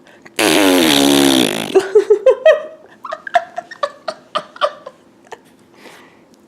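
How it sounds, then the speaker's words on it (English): A vaginal fart: one long, loud buzzing blast followed by a run of short sputtering pops that trail off and fade, with no talk over it. "You guys familiar with the pussy fart?"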